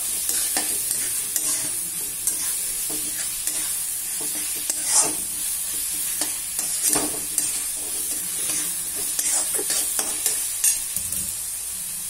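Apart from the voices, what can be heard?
onions frying and being stirred in a pan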